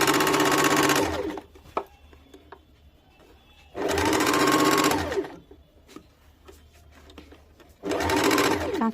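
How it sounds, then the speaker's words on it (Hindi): A sewing machine stitches kurti fabric in three loud running bursts separated by quieter pauses with small clicks and handling sounds. "अभी हम लोग इसको अंतिम छोर तक सिल लेंगे।"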